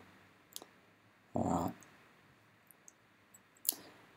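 A computer mouse clicks in school software, two soft, sharp clicks spaced a few seconds apart, with a brief spoken word in between.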